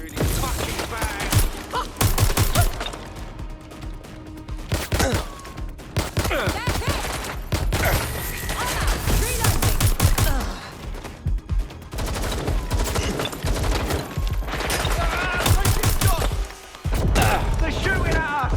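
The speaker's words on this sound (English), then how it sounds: "They're shooting at us!" Heavy, sustained gunfire from a firefight in Watch Dogs: Legion, with dense bursts and rapid volleys near and loud through most of the stretch, and voices calling out beneath the shots.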